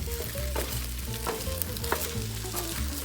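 Eggs and cheese fry in a pan with a close, steady sizzle, broken by short scraping and stirring strokes of a utensil against the pan. No one talks.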